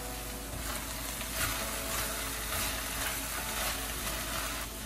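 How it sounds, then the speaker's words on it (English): Capsicum masala curry sizzles in the pan with tomatoes, turmeric and red chili powder, a steady close crackling fry with faint stirring scrapes and no talking. "I am adding a generous heaping spoon of"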